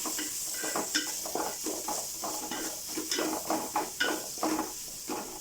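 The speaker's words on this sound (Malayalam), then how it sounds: "പിന്നെ കുറച്ച് ഗരം മസാല ചേർത്ത് കൊടുക്കാം. നന്നായി ഇളക്കി യോജിപ്പിക്കാം." A spoon stirs egg rice seasoned with garam masala in a pan, scraping and clinking in quick irregular strokes over a soft, continuous sizzle, close and moderately loud.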